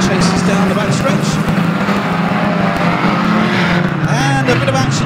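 Bangers and saloon stock cars roar down the back straight at Mildenhall in a loud, dense, continuous engine din. A commentator talks over the racket.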